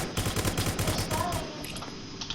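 Rapid bursts of gunfire in the Roblox video game, a dense fusillade of repeated shots in the first half that thins out toward the end, with faint talk mixed in.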